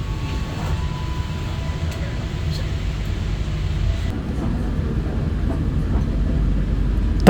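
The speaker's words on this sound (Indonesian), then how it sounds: "Tepat jam 12:15, kereta mulai diberangkatkan" The Blambangan Express passenger train departs, a steady low rumble of wheels rolling on rails heard from inside a carriage, with faint clicks throughout.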